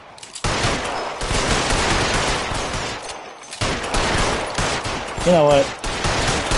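Bursts of gunfire in the video game L.A. Noire come in rapid, dense volleys, pause briefly, then start again. Someone speaks briefly over the shooting.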